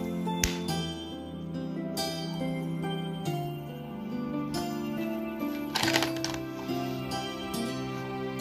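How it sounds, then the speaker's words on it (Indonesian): Ice cubes clatter into a cup while a virgin mojito made with Coca-Cola and lime is prepared, giving a series of sharp clinking knocks over a steady background of music. "Nah, kita tambahkan es batu."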